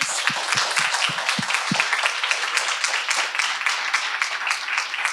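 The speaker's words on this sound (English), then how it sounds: "A round of applause for your professors" A crowd at a 2023 academic symposium applauds its professors, dense steady clapping filling the room for several seconds, with a few low thumps near the start.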